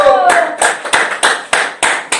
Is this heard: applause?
yes